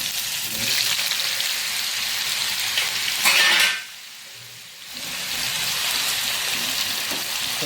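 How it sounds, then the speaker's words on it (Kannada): Elephant foot yam pieces frying in oil over low heat, in batches: a steady rain-like sizzle that briefly swells louder, then drops away for about a second before the crackling frying returns, with no talking. "ನಿಧಾನಕ್ಕೆ ಇದರಲ್ಲಿ 2 ಬ್ಯಾಚಿನಲ್ಲಿ ನಾನು ಫ್ರೈ ಮಾಡ್ಕೊಳ್ತಿದ್ದೇನೆ"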